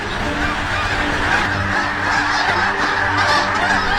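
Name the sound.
large flock of geese honking as they take off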